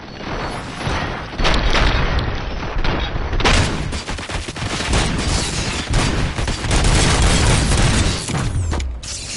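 Sustained volley of gunfire from police weapons in a RoboCop film scene, dense overlapping shots and mechanical clatter for about nine seconds, loud and continuous with heavy booming impacts.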